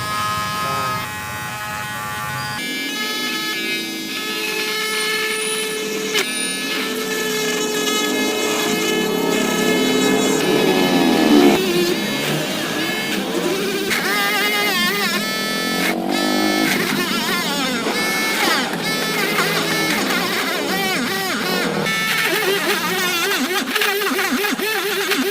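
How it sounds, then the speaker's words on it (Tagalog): A cordless portable drill whines steadily as it bores holes in black balls used as stoppers for bladed bicycle spokes, a loud close buzz that shifts pitch under load and runs almost the whole time, with no talking. "Ito yung aking portable drill."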